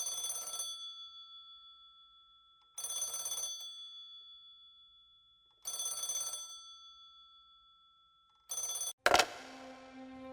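Old-style telephone bell rings in three long, evenly spaced bursts, then a short fourth ring is cut off abruptly by a pickup clunk, heard clearly with no talk over it.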